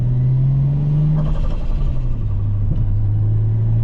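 A Nissan Skyline engine rumbles steadily at idle, a loud low drone close by with a slight rise and dip in pitch partway through, with no talk over it.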